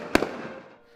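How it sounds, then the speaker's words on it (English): A single sharp firework blast at night in Colleyville, Texas, loud and close, followed by a smaller crackle and a long fading rumble that trails off into quiet. "And when the night ended with fireworks"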